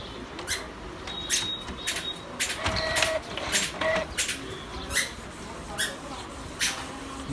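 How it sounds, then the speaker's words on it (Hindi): A Canon inkjet printer with a fault in its ink tubing, since fixed, prints a colour photo, giving repeated mechanical clicks, squeaks and brief whirring bursts from the print head carriage at close range. "और प्रिंट होना चालू हो गया"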